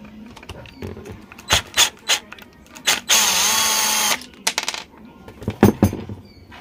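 A screwdriver works loose the single screw on the back cover of an angle grinder that has no power. Close, sharp clicks and scrapes come in bursts, with one longer grinding whir in the middle.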